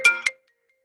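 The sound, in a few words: phone ringtone ringing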